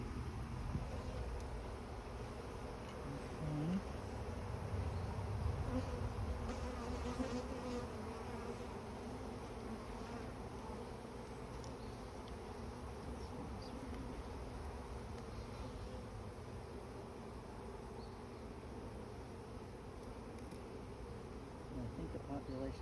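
Honey bees swarm around an open hive during an inspection, their dense, continuous buzzing filling the air close by, with faint background noise throughout.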